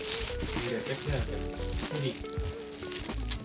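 Plastic wrapping is pulled off a newly packaged school bag, with close, busy crinkling and rustling of the film while a voice talks over it.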